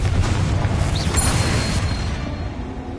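A Confringo spell explosion in Hogwarts Legacy lands as a deep booming blast with crackling debris. It rolls out and fades over about three seconds.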